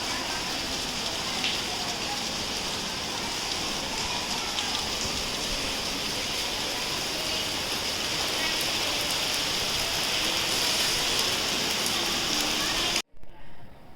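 Rain falls in a steady, loud, even hiss that runs unbroken for most of the time before cutting off abruptly, followed by a few seconds of quieter sound.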